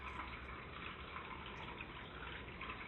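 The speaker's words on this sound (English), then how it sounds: "Fresh water source. It's coming right down, flowing and trickling." A small freshwater stream flowing and trickling down at a wildflower preserve: a faint, steady, even wash of running water heard alone.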